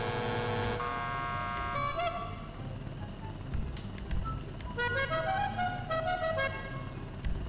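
Horn of a Nagasaki BF400 motorcycle in GTA V, sounding as several tonal toots of varying length over a steady engine hum.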